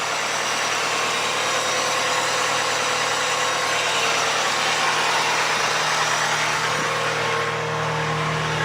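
A Mitsubishi Galant VR-4 engine idling after an alternator replacement, with a steady, continuous rumble and hum, close by and unchanging throughout, with no voices.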